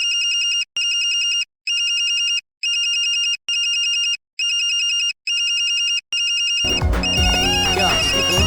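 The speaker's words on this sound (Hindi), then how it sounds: "क्या इसकी फोन की रिंगटोन बज रही है?" In a film scene, a phone ringtone chimes in repeated bursts with short gaps, loud and close, then gives way to music and voices.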